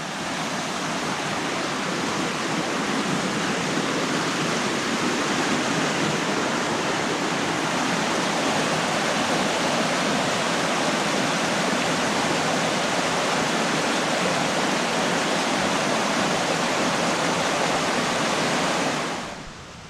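Creek water rushing steadily close by along a forest trail near Tamanawas Falls on Mount Hood, Oregon, a dense continuous roar with no voices, cutting off abruptly at the end.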